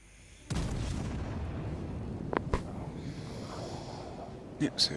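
Warship main guns firing armour-piercing shells in World of Warships Legends ranked play, a booming salvo onset followed by a few sharp reports and low rumble, with soft breathing noises near the end.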